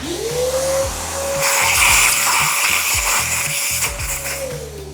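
A vacuum cleaner cleans the burr carrier of a Mahlkönig E80S coffee grinder during reassembly, a steady close motor whine holding throughout with a rising pitch at startup and gentle fall at the end, plus some rattling contact noise.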